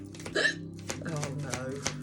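Several short, sharp hiccups break out close by at irregular intervals, with a voice talking around them.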